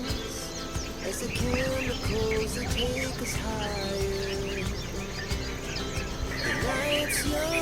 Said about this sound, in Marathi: हा आहे भारतातला एकमेव पोपट एक पिचू पोपट किंवा भुंडा पोपट म्हणजे वर्नल हँगिंग पॅरट